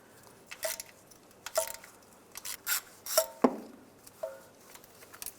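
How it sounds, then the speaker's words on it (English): An 8mm socket works a bolt out of a bracket on a 2007-2013 Chevy Silverado, with quiet, intermittent ratcheting clicks and metallic scrapes in short bursts, close and faint. "Using an 8mm socket, take this bolt out of this bracket"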